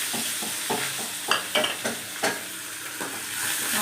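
Mustard seeds and curry leaves fry in hot oil in a pan, a steady sizzle broken by several sharp stirring scrapes and clatters close by.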